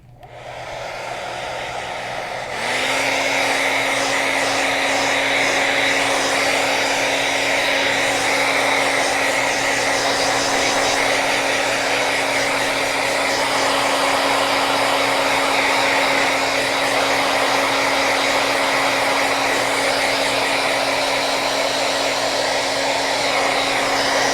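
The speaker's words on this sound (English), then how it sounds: "So I'm just going to use my dryer for just a second." A hair dryer switches on and blows steadily at full power, a loud close whooshing whine with no voices.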